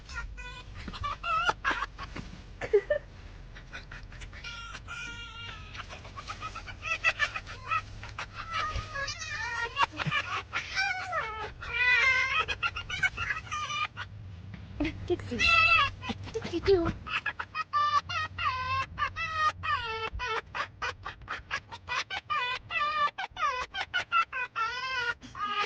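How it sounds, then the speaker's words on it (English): A pair of foxes being tickled by a woman give rapid, high chattering squeaks and cackles in dense repeated bursts over a low background hum, sounding like excited laughter. "This woman started tickling this fox couple, and they couldn't stop laughing."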